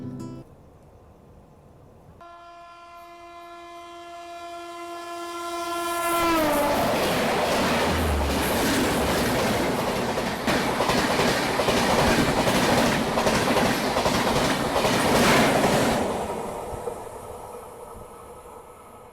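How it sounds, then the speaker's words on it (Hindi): At Jaitwar railway station, the Patliputra express overtakes a halted train. A long, steady horn blast sounds first, then a loud, close rumble and rhythmic clatter of wheels and carriages rushes past for many seconds before easing off. "यहाँ पे हमारी ट्रेन रुकी क्योंकि पाटलिपुत्र एटीटी एक्सप्रेस हमें ओवरटेक करने वाली है"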